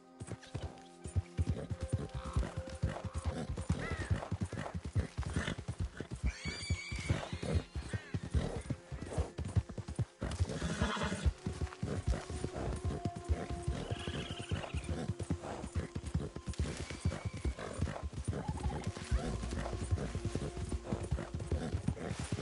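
Horse hooves clip-clop in a steady galloping rhythm through Red Dead Redemption 2, with occasional whinnies, creaking tack and faint ambient game sounds. The sound stays continuous and moderately quiet.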